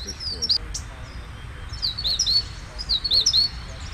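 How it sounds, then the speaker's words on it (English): In Panama, a ruddy ground dove calls amid other birdlife, with several clear, high chirps and short whistled notes repeating in small bursts over a faint outdoor background. "Ruddy ground dove there."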